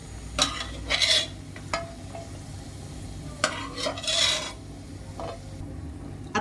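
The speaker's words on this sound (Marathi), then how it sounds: "काजू छान सोनेरी रंगावर आपण तळून घेणार आहोत" Cashews frying in oil until golden for a jackfruit biryani, with a gentle sizzle beneath repeated scraping and stirring strokes of a spoon against the pan, close and clear, coming in irregular bursts.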